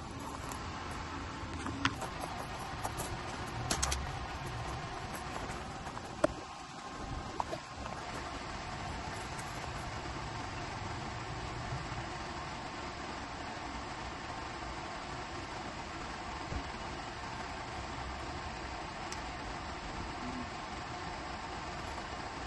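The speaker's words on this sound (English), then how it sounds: "I'm gonna go ahead and button up this bike and get on the road." Lectric XP 2.0 e-bike riding on the road, a steady rush of wind and tire noise with a faint motor hum throughout, dotted with a few small clicks and bumps.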